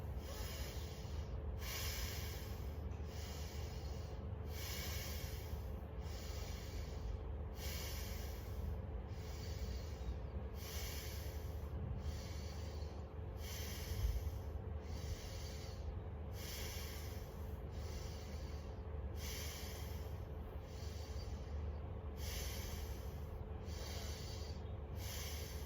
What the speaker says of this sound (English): Power breathing.